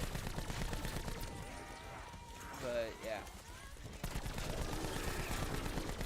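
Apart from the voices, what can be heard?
gunfire in a zombies video game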